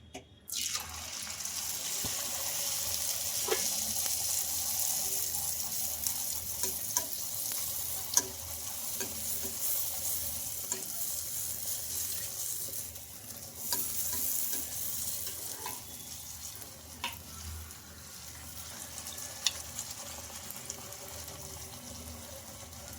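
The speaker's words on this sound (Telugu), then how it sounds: "ఇలా ఉడికించుకొని ఫ్రై చేసుకున్నా కూడా మనకి ఎంత బాగా పొంగిందండి పూరి" Puris deep-frying in hot oil, a steady close sizzle and bubbling running throughout with occasional stirring and scraping clinks, no talking.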